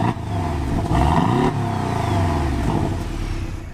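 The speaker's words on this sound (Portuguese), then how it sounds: "Esse, pessoal, é o som normal do carro" A car engine revving in its normal driving mode, close and loud, with a rough mid-pitched rumble that surges and settles in steady waves and no voices.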